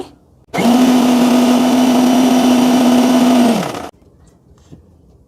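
An electric blender runs steadily for about three seconds, blending oil into homemade mayonnaise with a loud, even motor whine that spins up abruptly and winds down at the end, with quiet before and after.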